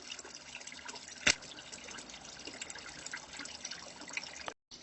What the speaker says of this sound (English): that sound is from the fish tank.